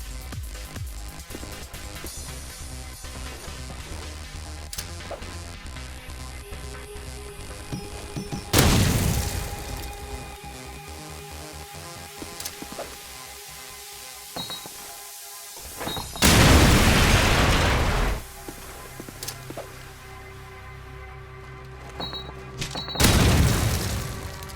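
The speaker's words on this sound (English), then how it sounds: "A B long nade to stop people pushing from that area into the middle." Three heavy grenade blasts in Call of Duty 4 Promod ring out several seconds apart over continuous game ambience. Each booms loud and close, then decays quickly.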